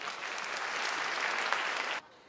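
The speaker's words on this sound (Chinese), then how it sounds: "再给我鼓励的掌声。" A church congregation at a Sunday worship children's ministry night breaks into loud, dense applause for about two seconds, then it cuts off abruptly into near silence.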